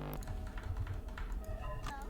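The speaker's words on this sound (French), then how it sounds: "Désolé si on entend le putain de clavier au micro, hein, c'est un clavier mécanique" Fast, uneven clacking of a mechanical keyboard, with closely spaced keystrokes heard up close through a microphone, with no voices.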